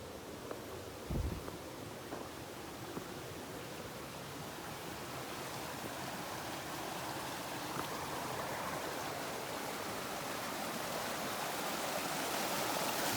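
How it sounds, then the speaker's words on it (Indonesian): A river stream near Curug Walet waterfall in Bogor rushes steadily as a broad, close hiss of flowing water, building slightly louder toward the end with no talk. "Kita udah ketemu nih aliran sungainya"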